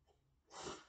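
A single short, breathy sneeze bursts out near the microphone after a brief inhale, in an otherwise quiet room.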